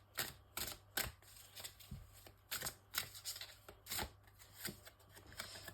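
Tarot cards are shuffled and drawn by hand, a series of crisp riffling slaps and soft card clicks at an uneven pace, close and quiet, with no voices.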